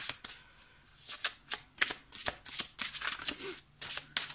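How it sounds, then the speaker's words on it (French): Oracle cards are shuffled by hand, close up, in a quick run of crisp riffling bursts with short pauses between them, mostly alone with little else audible. "moi je vais battre les cartes"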